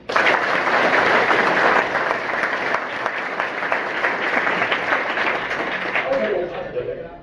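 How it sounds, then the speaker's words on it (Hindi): Loud, sustained applause from a school audience in Mokalpur, Mariyahun, Jaunpur, clapping for their mothers, a dense continuous roar that fades out at the end. "उससे जबरदस्त ताली अपने अपने मां के लिए बजानी"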